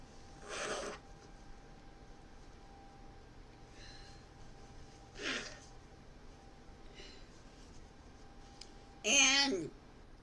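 A person blows their nose with a few short, breathy honks spaced several seconds apart, close and fairly quiet, with the last one loudest.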